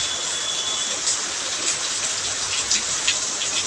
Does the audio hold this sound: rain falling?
yes